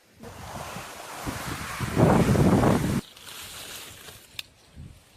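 Strong wind roars by the sea, buffeting loudly for a few seconds before dropping abruptly to a softer rush with waves.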